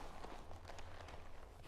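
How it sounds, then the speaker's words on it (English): Footsteps move quickly in the dungeon game Dark and Darker, a quiet rapid patter of steps under a dense, muffled background. "I thought I heard footsteps."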